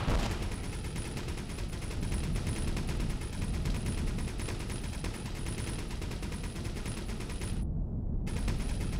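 Ship-mounted guns in the space game Avorion fire continuously in a dense, rattling stream of rapid shots, with a thin steady high whine running over the barrage and a brief break near the end.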